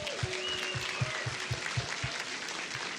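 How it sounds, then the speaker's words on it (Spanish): A church congregation claps for the kitchen ministry team in a continuous, dense round of applause, with a faint voice or tone drifting underneath and some low thumps mixed in. "Dámelo un aplauso a la gente de la cocina."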